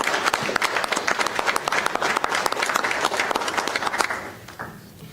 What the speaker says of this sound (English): So I'd like to do a round of applause for that outstanding